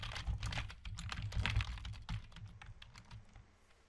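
Fast, steady typing on a computer keyboard as a line of Python is entered at a command-line interpreter. Close, crisp keystrokes follow one another in a quick run that fades slightly toward the end.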